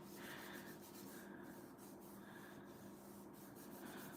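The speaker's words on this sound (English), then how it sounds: "use the other hand to kind of rub all that glue in" A hand rubs glue into place on a paper heart-shaped card, giving a faint, steady dry rubbing and scraping with short repeated strokes, heard close up and alone.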